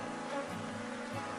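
Honey bees swarm around an opened wooden hive box during a colony split, a dense continuous buzz of many insects, steady and close with no talk.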